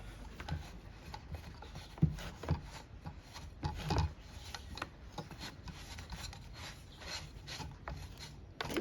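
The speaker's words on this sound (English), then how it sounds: "So we'll just clean off this old anti-seize there and apply some fresh one just before we put it on." Old anti-seize compound being scraped and rubbed off a lawn mower part, close up and alone, in an uneven run of rasping strokes with a few sharper scrapes.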